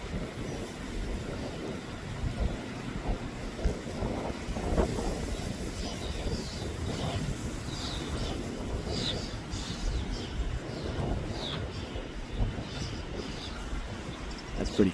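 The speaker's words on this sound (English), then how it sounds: "wind blowing through the tall grass." Wind blows through tall grass along the Appalachian Trail near Waynesboro, Pennsylvania, a soft, steady outdoor rustling hiss with occasional gentler gusts, faint and unbroken, with no voices.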